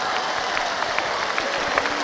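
A concert audience applauds steadily throughout, a continuous wash of many hands clapping at moderate loudness, with no voices standing out.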